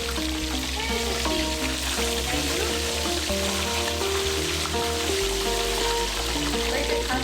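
Korean fried chicken pieces frying in hot oil, a dense, steady sizzle that carries on without a break for several seconds under faint background noise.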